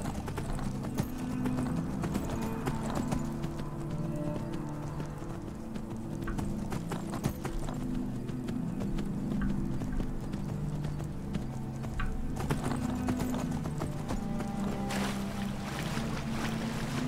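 Steady clip-clop of horse hooves at a gallop in the video game The Elder Scrolls V: Skyrim, continuous and fairly close, over a low rumbling background with a faint watery wash.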